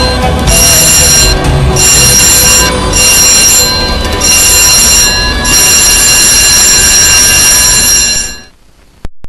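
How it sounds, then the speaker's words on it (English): A loud electric ship's abandon-ship alarm bell rings in seven short bursts, then continuously, before cutting off into near silence. "This is an abandoned ship alarm."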